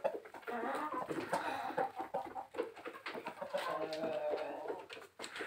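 Chickens on a hot Atyrau farm clucking, several birds making repeated close, conversational clucks and murmurs through the whole stretch, fairly quiet and with no talk over them.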